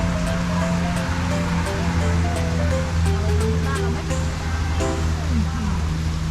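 Steady, rushing water roars continuously like a waterfall, with a low engine hum underneath and a few faint voices.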